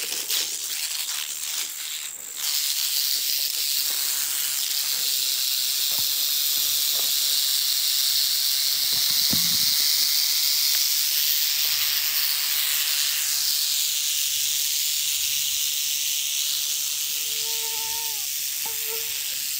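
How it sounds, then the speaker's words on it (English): A canebrake rattlesnake on a road gives a steady, loud buzzing rattle and hiss that runs unbroken for the whole stretch, close by, with no talk over it. "Always awesome to get a canebrake rattlesnake, or any rattlesnake, really."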